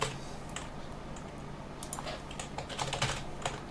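Fast keystrokes on a computer keyboard enter a root password during a Linux install, a quick irregular patter of light clicks close by with no talking.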